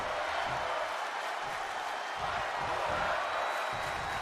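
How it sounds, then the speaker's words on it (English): A wrestling crowd at an XFW Danger Zone event roars and screams in a chant of "fight forever," a loud, sustained wall of voices with rhythmic surges. "This crowd now screaming, fight forever."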